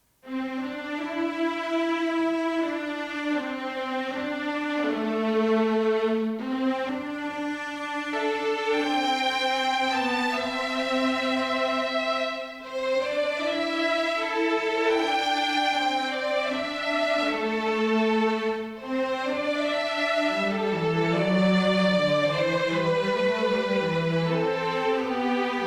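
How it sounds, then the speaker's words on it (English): Cellos and violas play a melodic line in unison within a classic adventure orchestral track, a sustained legato mid-register melody moving in long phrases beneath higher parts, steady and full throughout without voices. "our cellos and violas are playing the same thing in unison"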